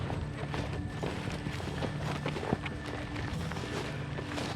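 A cow walks along a dirt cow path in a backyard farm, its steady, soft hoof thuds plodding close by under a noisy outdoor background.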